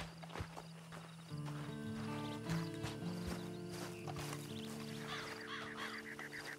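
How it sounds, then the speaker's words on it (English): Hooves clip-clop at a slow, uneven pace beneath a droning tonal backdrop in the video game Red Dead Redemption 2, with a few sharper knocks and faint honking-like calls mixed in. "And you better get on this horse."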